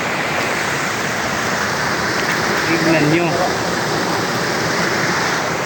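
Waterfall in Claveria, Misamis Oriental, a steady broadband rush of falling water filling the whole clip, close and loud, with a short spoken phrase over it.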